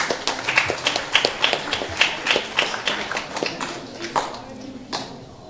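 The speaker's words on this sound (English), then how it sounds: "Please give them a big round of applause." Scattered applause rises from a temple feast congregation, a loose patter of distinct claps from a modest group that thins out and fades near the end.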